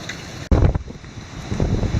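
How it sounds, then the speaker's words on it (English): Wind during Hurricane Matthew comes in a sudden strong gust that buffets the microphone, then eases and rises again in a rough rushing swell, with no one talking. "You can hear the wind in the gusts."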